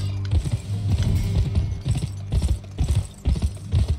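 Horse hooves clip-clop at a galloping pace in the PS2 video game GUN, with rhythmic bursts of thudding steps repeating steadily and fairly loud, alongside low mechanical game sounds.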